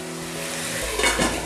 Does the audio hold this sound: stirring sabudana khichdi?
yes